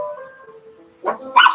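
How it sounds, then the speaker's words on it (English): A dog at home gives a couple of sharp, fairly close barks after a few seconds of quiet whining tones, short and loud with no talking. "Dog alert."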